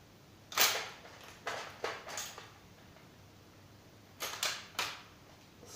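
Red Army small arms fire a salute, a series of sharp cracking shots in irregular pairs and clusters, heard at moderate distance in a quiet setting.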